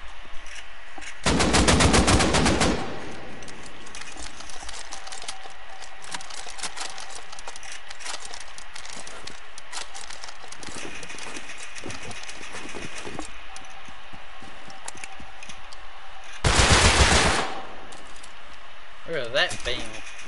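Gun firing in the video game Rust: two sharp bursts of rapid automatic shots, one early and one near the end, loud and close over a steady game background with occasional voice.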